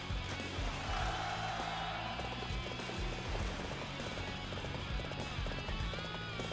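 Horses galloping in the video game Dynasty Warriors 7, a steady run of hoof clip-clops carrying over dense battle noise and game sound with no talk.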